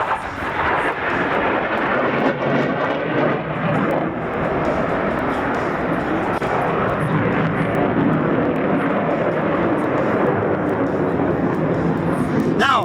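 A Eurofighter Typhoon makes a low, fast pass at full military power at an air show, a loud continuous roar that stays strong for about thirteen seconds, with a voice talking over it.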